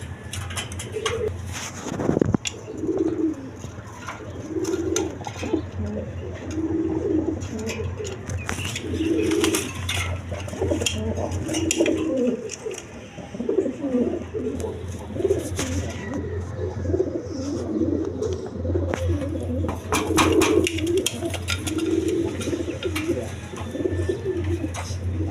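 A pair of pigeons coos steadily in repeated low, throaty phrases that continue throughout, mid-distance, over constant background noise with sharp clicks, a brief clatter and faint wing sounds.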